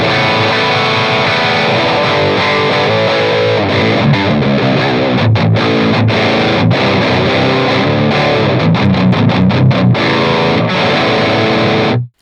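Heavily distorted electric guitar through the Audio Assault Crown amp simulator's high-gain channel plays chugging metal chords and riffs, loud and continuous, with a saturated tone, no pedals, and no voices.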